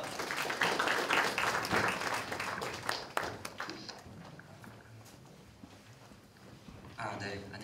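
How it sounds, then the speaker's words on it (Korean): An audience at a talk on student housing bursts into dense applause for about four seconds, then it thins out and fades to quiet. "큰 박수로 부탁드리겠습니다."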